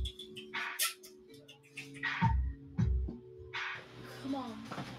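A dog barks a few times, short, fairly close yips and woofs, mixed with background voices and music during a live stream.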